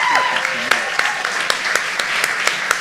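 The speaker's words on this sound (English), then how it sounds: "just one more round of applause for our people" An audience at the Lambda Literary Awards ceremony applauds in a steady wash of clapping, with a few sharp, prominent individual claps standing out and a brief voice at the start.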